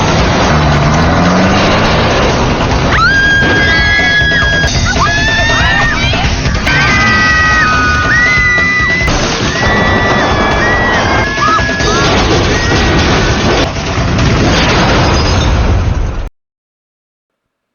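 Cars chase through a scene in a Thai horror film: a loud, dense mix of engines, pops and impacts runs throughout under a tense music score, with some voices.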